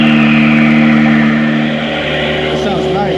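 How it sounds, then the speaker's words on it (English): Acura NSX engine in a collector's garage, a loud close mechanical drone with steady tonal hum that dips briefly midway then climbs again in pitch as it revs. "He said if I wanted to hear it, he's gonna fire it up."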